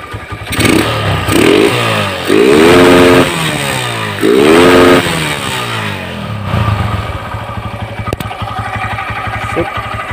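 A motorcycle fitted with Herex wiring and an RCB part revs hard in three close, loud bursts, each climbing and falling, before it settles into a steady idle.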